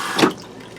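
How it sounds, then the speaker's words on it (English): Water rushes into an RV toilet bowl as the flush pedal is pressed, a short close burst of flow that settles into a softer steady trickle. "let's step on the pedal and see if we get water flow."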